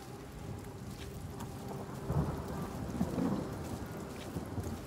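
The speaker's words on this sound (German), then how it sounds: "Die Wolke, wie sich der Regen ergießt." Heavy rain pours steadily with rumbling thunder rolling through in the Hellblade II video game, a dense wash of downpour with low booms swelling midway.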